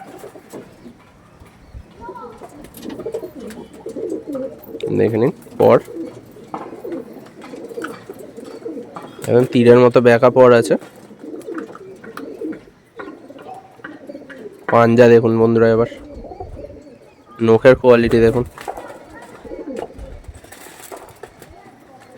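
Old-breed black pigeons coo in several loud, rolling bursts close by, interleaved with someone talking throughout.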